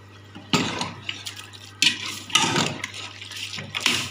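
Beef karahi with added water stirred in a pot, giving several loud scrapes and wet clatters of a spoon against metal in uneven bursts, close up, with no talking.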